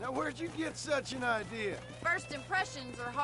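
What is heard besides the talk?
No everyday noise stands out behind the speech.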